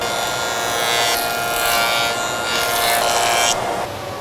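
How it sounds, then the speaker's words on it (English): A jointer cuts across the cupped edge of a wooden board, a loud, steady high-pitched machine whine and hiss that swells in a few passes and rises near the end, with no talking. "we're going to bring it over to the jointer, and then we're going to clean that cupped edge and make it flat"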